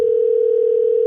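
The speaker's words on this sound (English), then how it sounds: "All right, call Nina." A landline telephone gives off a loud, steady, unbroken dial tone just before a call is placed, heard alone for about a second.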